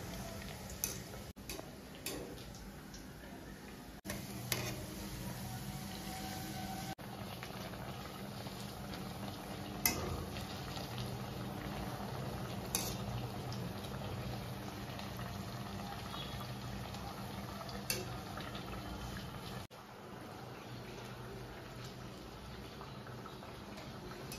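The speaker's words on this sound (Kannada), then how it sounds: "ನೋಡಿ ಇದೀಗ ಒಳ್ಳೆ ರೀತಿಯಲ್ಲಿ 2 ಸೈಡ್ ಫ್ರೈ ಆಯಿತು" Mangalore banana buns fry on both sides in a pan over a medium flame, giving a long, steady sizzle and bubbling with scattered light ticks and pops, close and fairly quiet.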